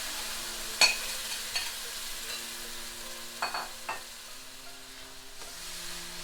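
Canned tomatoes in a pan for tomato chutney give a soft, steady sizzle, broken by a few distinct scrapes and taps of a stirring spoon, fairly quiet and without talk.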